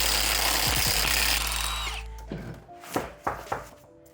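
A power tool, likely an impact wrench, whirs loudly for about two seconds while removing a front wheel on a first-generation Toyota Sequoia, followed by several sharp metallic clanks and knocks.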